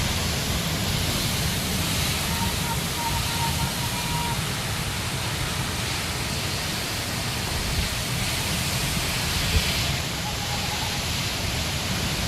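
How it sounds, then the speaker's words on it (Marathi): Heavy pre-monsoon rain pours steadily under strong, gusting wind in rural Maharashtra, a dense, unbroken roar that stays loud for the whole stretch with no clear pauses. "तुफान वारे आणि तुफान पाऊस, जोरात वारा."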